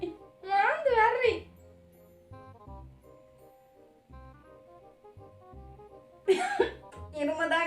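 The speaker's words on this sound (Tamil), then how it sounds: "இருமதான் கைஸ் வருது, தும்மா வருது இல்ல." A young person coughs repeatedly while trying and failing to sneeze, with bursts of coughing near the start and again near the end, separated by quieter stretches over a low background hum.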